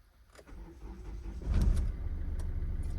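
A Hyundai Getz 1.5 CRDi VGT diesel is started from inside the cabin; a brief starter whir turns into a low, rising engine rumble that then settles into a steady idle, heard close with no speech.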